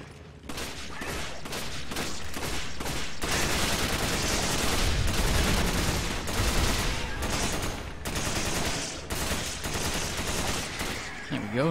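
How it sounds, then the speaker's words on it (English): Machine gun fire in the Resident Evil 5 video game, rapid bursts of loud sustained automatic fire that stop and restart several times and sit close and dominant. "I'm out of machine gun ammo"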